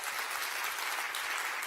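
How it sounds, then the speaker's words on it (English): An audience at the Atlantic Festival's Ideas Stage applauds comedian Cristela Alonzo with a sustained, even roar of clapping hands throughout. "Let's give one more round of applause for comedian Cristela Alonzo."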